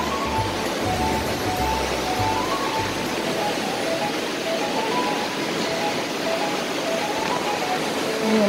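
The Alaknanda river rushes in Uttarakhand, heard from a hotel terrace above it as a constant, full roar of flowing water, loud and unbroken throughout.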